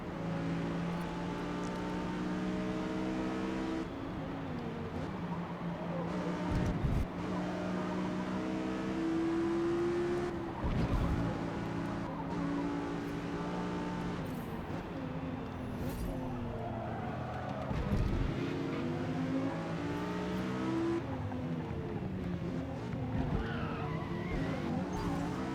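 Lexus LFA and Porsche 911 GT3 race cars in Forza Motorsport, a steady engine drone with shifting pitch as they race, gear changes and occasional tire skids throughout.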